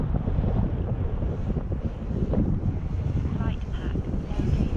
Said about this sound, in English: But man, today it's windy.